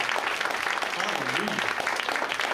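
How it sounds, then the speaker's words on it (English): Congregation hand clapping during a church service, with a dense, steady patter of applause and a voice briefly rising underneath it. "Give the Lord another hand clap."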